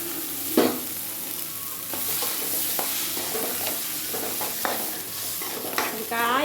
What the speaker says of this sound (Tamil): இதில் வெங்காயம் போட்டுக்கலாம்.